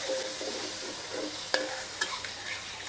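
Thai chili curry paste stir-fried in a pan for crispy fried fish with pickled bamboo shoots, a constant close sizzle broken by a few sharp spatula scrapes, no talking.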